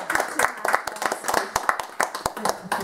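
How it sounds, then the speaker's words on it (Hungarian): An audience at a Hungarian movement gathering claps in a scattered, uneven rhythm of sharp hand strikes, moderately close, with voices murmuring and talking underneath throughout. "ezeket a számokat, ezeket akár tapsolhatjuk is"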